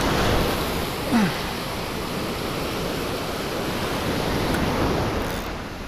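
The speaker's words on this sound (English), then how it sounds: "Let's enjoy this nice sound of the ocean." Ocean waves on the Jersey Shore, a steady broad wash of surf rolling continuously and fairly close, with no talking.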